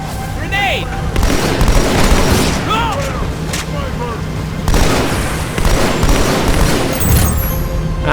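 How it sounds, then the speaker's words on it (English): A grenade bursts amid heavy combat in Halo 2 Anniversary. Booming blasts and gunfire rumble over a dense battle din, with chirping alien weapon sounds and shouted voices mixed in. "Grenade!"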